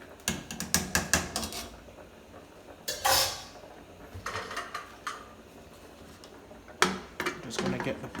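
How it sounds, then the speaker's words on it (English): A pressure cooker pot being closed for Jamaican-style curry turkey neck: a run of sharp metallic clicks, scrapes and clanks as the lid is lined up and locked, close and fairly loud, with pauses between bursts. "So we're going to close the pressure pot so that the meat can get tender and juicy"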